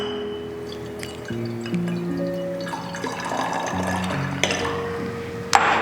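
3% hydrogen peroxide pours steadily into a container, a soft splashing fill over a low tonal background, with a small clink near the end.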